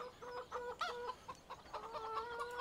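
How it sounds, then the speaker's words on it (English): Chickens on a farm in the video game Farming Simulator 17 cluck in quick, irregular bursts, several birds overlapping close by against a soft ambient background. "Here we have our chickens."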